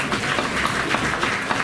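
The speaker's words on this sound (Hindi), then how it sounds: "आइए जोरदार तालियों से हम इनका स्वागत करें।" Audience clapping to welcome a parade of women constables at a BSF camp event, a continuous wash of applause at moderate loudness throughout the short moment.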